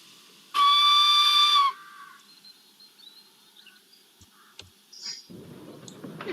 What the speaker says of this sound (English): released steam and whistled proudly